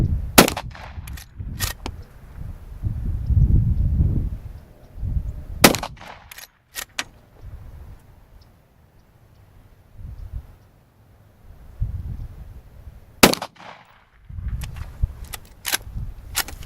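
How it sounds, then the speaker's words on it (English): A rifle firing .38 Special rounds at a target, with about six sharp, loud reports in irregular groups: two near the start, two around the middle, two near the end. Low rumbling handling noise fills the gaps between shots. "Now we're going to take the rifle and shoot the 38 special at the target."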